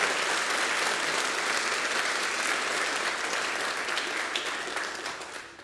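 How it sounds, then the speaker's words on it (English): Applause from the audience at a school band concert fills the hall as a steady, dense roar of many hands clapping, tapering off slightly toward the end. "How about a big round of applause for Mr. Foltz"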